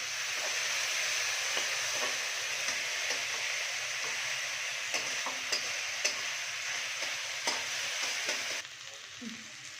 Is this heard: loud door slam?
no